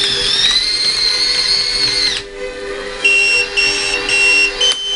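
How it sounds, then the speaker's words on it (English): A backup beeper on an RC 1/16 scale D5 dozer sounds close and loud, first as a long sustained electronic tone, then as a run of short repeated beeps over a faint motor hum. "also what is new is I added a backup beeper"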